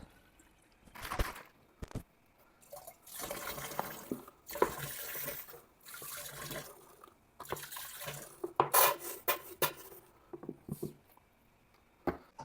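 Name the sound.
water being poured and stirred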